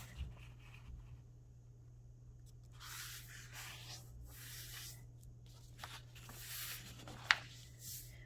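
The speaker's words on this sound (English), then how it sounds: "and then we're going to fold our paper in half." Sheet of paper folded in half during a craft activity, with soft rubbing and creasing strokes, quiet and close, ending in one sharp crisp snap of the crease.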